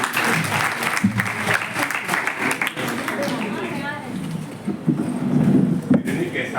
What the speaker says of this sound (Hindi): प्लीज उनके लिए एक बार जोरदार तालियां